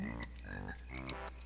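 A frog croaking in the swamp level of the Banjo-Kazooie video game, with a couple of quick, close ribbit calls over steady background game music.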